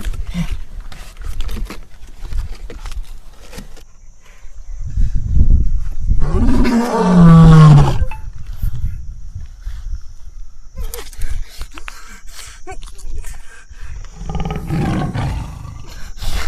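Lion roar sound effect in a Gujarati comedy skit, one loud, deep, drawn-out roar rising mid-clip amid quieter background noise and brief speech.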